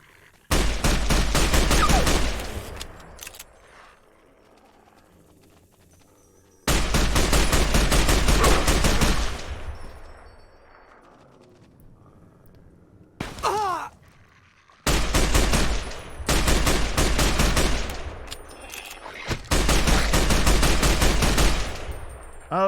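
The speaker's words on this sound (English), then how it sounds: "Oh, somebody's shooting at me." Loud bursts of automatic gunfire from the video game Fallout: New Vegas come in several long volleys separated by quiet gaps, each burst a dense rattling barrage.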